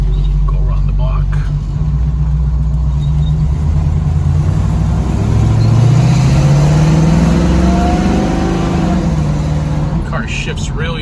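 A 1968 Chevrolet Camaro engine rumbles loud and close while cruising around the block, revving up through a rising pitch sweep and settling back, with someone talking over the engine noise.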